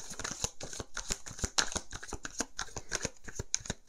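Oracle cards shuffled by hand for a nine-card reading, a rapid run of crisp riffling snaps and flicks, close and clear with no voices.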